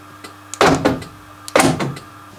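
A central locking actuator motor in a Lada Niva door operates twice, each time with a sharp mechanical thunk and a brief whir, close up and about a second apart.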